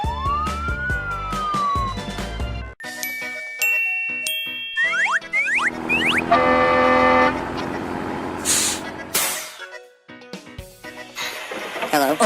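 Cartoon police car siren in a children's colors nursery cartoon with race cars and superheroes, a loud wailing siren with toots and dings over playful music, cutting in and out across several seconds.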